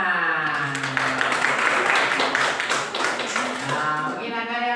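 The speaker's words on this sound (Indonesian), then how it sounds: "Tepuk tangan." Applause in a classroom, a few seconds of dense hand clapping from a group, steady and fairly loud, with a voice heard at the start and end.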